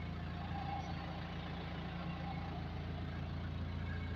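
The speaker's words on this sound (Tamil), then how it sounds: "இன்ஜின் சவுண்டெல்லாம் நல்லா இருக்கும்." A truck engine idles in neutral, a steady low rumbling drone close by that stays even throughout with no talking.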